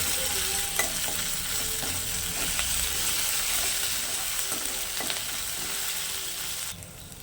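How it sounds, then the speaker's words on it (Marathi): Ginger garlic paste frying in a pan, a steady close sizzle holding throughout with faint scraping stir sounds now and then, no voices. "आलं तर कच्चेपणा जाईपर्यंत येथे मी परतवून घेणार आहे"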